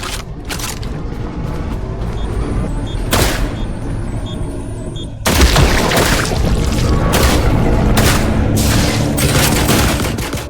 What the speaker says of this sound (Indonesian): Nembak secara bertubi-tubi guys